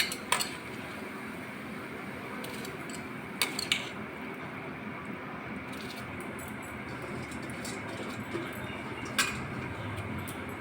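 Soaked rice stirred gently in a pot of boiling water for biryani, with a steady low bubbling bed and a few soft scraping and clinking touches of the spoon against the pot.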